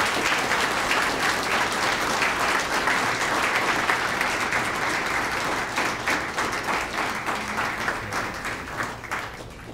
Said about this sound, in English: Let's give him a loud round of applause.